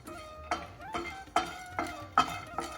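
Garlic frying in a pan for a curry, with a series of sharp clinks and scrapes from a utensil stirring at a steady rhythm over a soft background sizzle, close and moderately loud.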